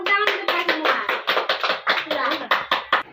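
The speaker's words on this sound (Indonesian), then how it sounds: "tepuk tangan untuk kita semua" Children clap their hands together during a classroom lesson, producing a quick run of brisk, close claps in rhythmic bursts with voices mixed in.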